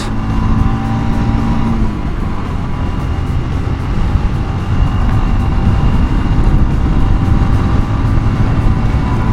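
A Royal Enfield Scram 411 motorcycle accelerates at full throttle, its engine droning loudly and steadily under heavy wind rush for nine seconds, with no talk.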